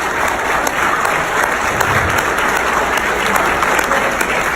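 A school event audience gives the board members a dense, sustained round of applause, many hands clapping loudly and continuously at close range, with a faint crowd murmur.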